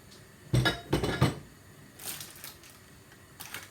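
A spoon clinks and scrapes against a cake tin as orange and lemon sponge batter is spooned in. There are a few sharp metallic knocks, then softer scraping taps, close and fairly quiet.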